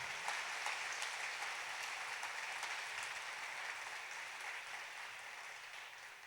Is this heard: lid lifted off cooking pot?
no